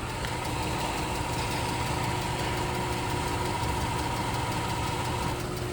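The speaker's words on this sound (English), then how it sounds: "The compressor sounds like it's about to explode also." A car engine idles with an AC compressor running rough and noisy, a steady mechanical drone with a rattling hum throughout and no talk.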